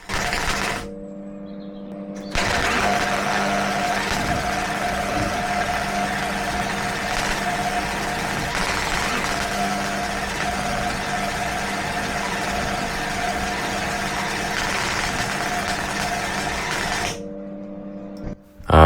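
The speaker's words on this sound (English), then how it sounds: "Honestly, I'm pretty chuffed with this weld. It wasn't spattery, it made a good sound" Welding on metal bodywork of a cheap UK hot hatch: a steady, close, buzzing crackle with a constant electrical hum, running unbroken for about fifteen seconds between short silent pauses at the start and end.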